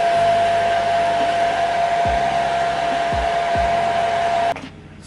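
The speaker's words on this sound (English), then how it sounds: "And then I'm going to take a blow dryer, and you want to put it on low settings and cool" A blow dryer set on low and cool, drying eyebrow-blocking glue, whirs in a steady, loud drone for about four and a half seconds before cutting off abruptly.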